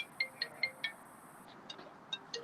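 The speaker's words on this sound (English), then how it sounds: "Other phone's ringing." A phone rings with a series of short, bright electronic chirps in a quick rhythm, then pauses and rings again more faintly, heard at a modest distance in a quiet room.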